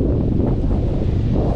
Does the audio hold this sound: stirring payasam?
no